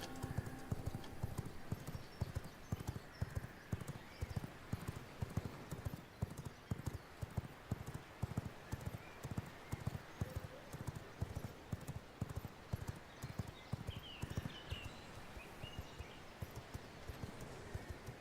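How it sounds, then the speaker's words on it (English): A horse gallops in the video game V Rising, quick rhythmic hoofbeats drumming steadily and evenly throughout, fairly quiet and alone with no talk. "It'll be a lot quicker if I'm scooting around on my horse here."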